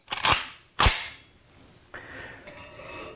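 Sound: Kalashnikov rifle trigger being dry-fired

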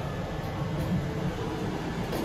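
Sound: Montgomery Kone hydraulic elevator motor running

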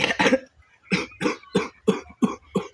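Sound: person coughing

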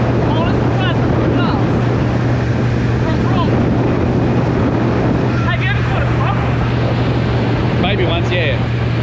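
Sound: motorboat engine running on the water

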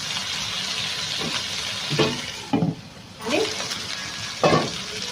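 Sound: water being poured into chicken pulao masala

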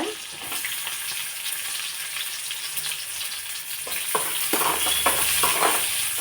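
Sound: onions frying in a pan

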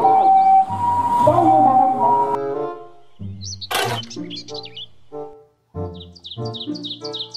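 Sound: toy ambulance siren

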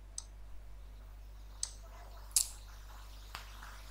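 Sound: mouse click to send email in Kobotoolbox

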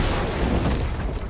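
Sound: explosion of enemy ships being destroyed in a ship video game

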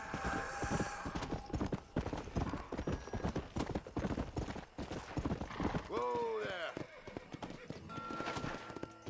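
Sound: horse clip-clop in Red Dead Redemption video game

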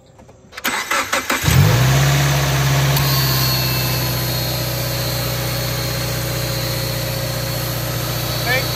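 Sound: Subaru Impreza engine starting with new serpentine belt

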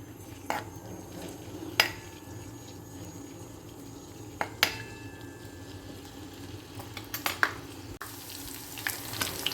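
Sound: garlic and ginger frying in a pan

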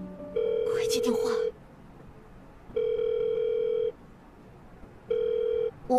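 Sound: telephone ringing

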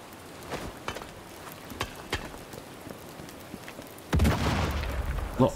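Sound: explosion in the video game Sniper Elite 5

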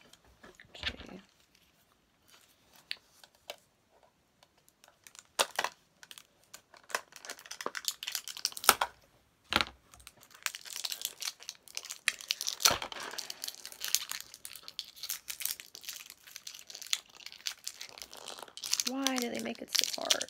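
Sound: tearing open plastic packaging

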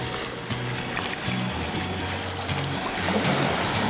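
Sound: wading into the sea over pebbles

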